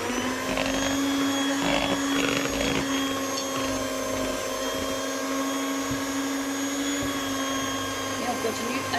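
An electric whisk beats waffle batter in a steady, loud motor whine that holds an even pitch for the whole stretch, with no voices over it.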